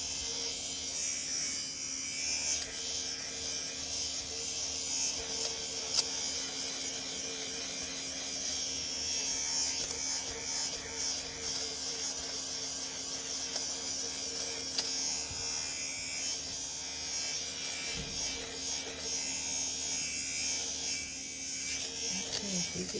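An electric fabric shaver runs over a sweater in one continuous bright buzzing drone, close and fairly loud, steady for the whole stretch with slight wavering as it moves across the knit, while a person talks over it.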